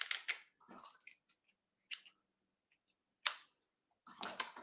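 Scissors trimming excess paper on a treat pouch craft, producing a few sharp, close snips in short clusters separated by quiet gaps.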